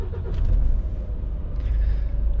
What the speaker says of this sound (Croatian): evo sad ćemo krenuti, pauza istekla, možemo upaliti kamion